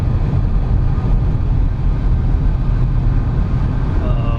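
A 2009 Chevrolet Impala accelerates, its engine a steady low rumble mixed with heavy wind noise from a leak, continuous and loud from inside the car with no speech.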